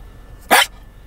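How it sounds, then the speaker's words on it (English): A single sharp dog bark, close and loud, cutting through an otherwise quiet background. "What are you barking at, boy?"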